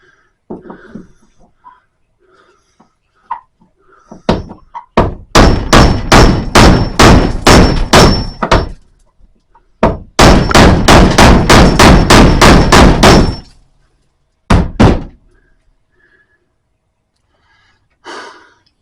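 A cut-off bolt is driven up through a ceiling with hard hammer blows, first a rapid run of sharp metallic clangs, then a pause and a second long burst, with a few scattered knocks afterward.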